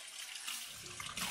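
Tap water runs over a cutting board in a kitchen sink, making a brief, soft, steady splashing hiss.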